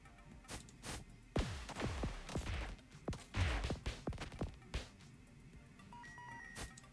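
Bomb explosions go off while mining sulfur veins in a block-mining video game: a rapid series of sharp bangs, each falling into a deep booming tail, followed by small electronic beeps.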